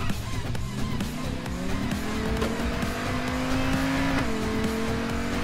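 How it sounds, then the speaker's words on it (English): Car engine in a driving video game, droning and rising in pitch as it accelerates, with steady tire and road noise underneath, continuous and close throughout. "Vroom, vroom."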